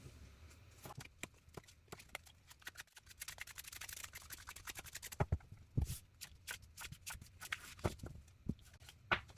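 Tarot cards are shuffled and drawn at close range, making quiet riffling and sharp slapping clicks, with a dense run of snaps midway and irregular taps and flicks afterward. There is no speech.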